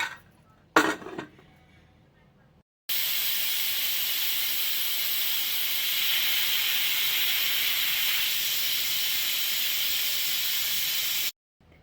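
A pressure cooker cooking country chicken curry lets out a loud, steady whistle hiss of steam lasting several seconds, after a brief metallic clank in a quiet room.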